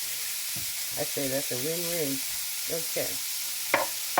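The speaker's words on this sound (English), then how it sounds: "Just fry that up like it's nothing." Pastrami frying in a pan for burritos gives a continuous, even sizzle that runs under a woman's close, casual talking.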